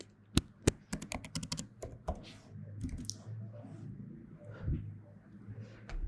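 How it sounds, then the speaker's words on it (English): Typing on a MacBook keyboard to write a message, with quick, uneven runs of light key clicks that are loud at first and then thin out, while faint background noise continues throughout. "Now let's type something."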